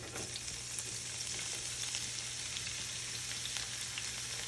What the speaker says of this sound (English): Saute that in the oil.